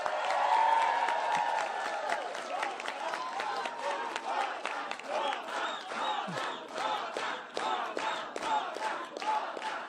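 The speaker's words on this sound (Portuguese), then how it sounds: "quero uma salva de palmas para o presidente Hugo Mota" Crowd at a Brasília event applauding and cheering for a politician, with a burst of shouts and whoops at the start giving way to loud, sharp rhythmic clapping that continues steadily to the end.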